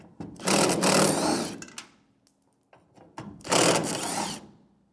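Socket wrench spinning out the fuel filler neck mounting screws on a 1992-1996 Ford F-150, two long bursts of rapid ratcheting whir separated by quiet, close and fairly loud with no talking.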